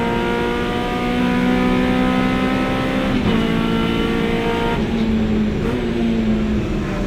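Hot hatch race car in a 750 Motor Club race at Silverstone, its engine loud and close as it climbs steadily through the revs, with gear changes breaking the rising drone a few times.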